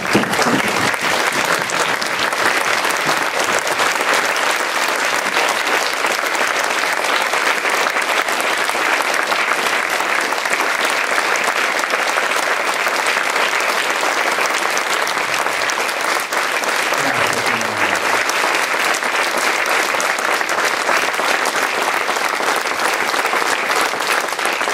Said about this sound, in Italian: di alzarci tutti e accoglierlo con un grandissimo applauso